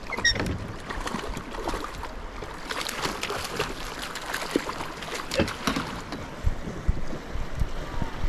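Broadband rushing water of the Gunnison River flows steadily throughout, with scattered splashes and brief clicks layered over the continuous wash during trout fishing.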